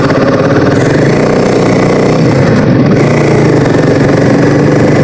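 A Royal Enfield Himalayan 450 motorcycle engine runs steadily and loud, a continuous close rumbling drone with no pauses.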